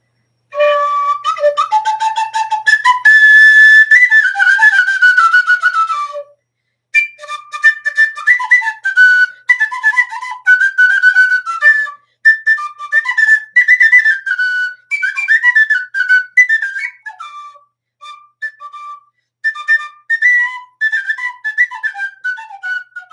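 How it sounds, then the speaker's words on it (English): A clown's tin whistle plays a lively tune, loud and close, with long bright trills up front, a brief stop, then choppy phrases of short piping notes. "this is Kimmy the Clown's flute"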